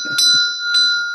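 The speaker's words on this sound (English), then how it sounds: "they're the bells for ringing to get the servants to come and help." Old servant call bell in a historic house in Walhalla, Victoria, rung twice in quick succession, each strike bright and ringing with a sustained tone that hangs between hits.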